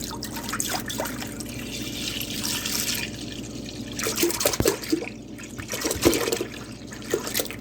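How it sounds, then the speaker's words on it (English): Pineapple juice is poured from an opened container into a pan, a soft trickling and dribbling stream with a few louder splashes and thuds, fairly quiet and close. "I'm just going to pour in the pineapple juice."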